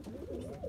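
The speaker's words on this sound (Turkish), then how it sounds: "5 tane şu an içeride oynayan kuş var" Domestic play pigeons cooing inside a loft: a brief, soft, low burbling coo that holds steady for under a second.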